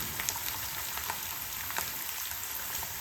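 Potatoes frying in a pan for sabudana khichdi make a dense, even hiss of sizzling oil, steady and close for the whole stretch with no voices.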